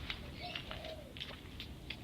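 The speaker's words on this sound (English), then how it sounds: "Oh, look, our little friendly pigeon, just hanging around." A pigeon coos softly in a raised-bed garden with an olive tree, a few low calls over light outdoor ambience and scattered higher bird chirps, with no talking.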